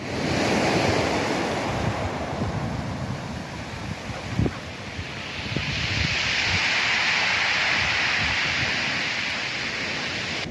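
Winter sea waves wash steadily onto Brighton beach, a broad, continuous roar of surf with rising and falling swells, mixed with heavy wind buffeting the microphone and no voices.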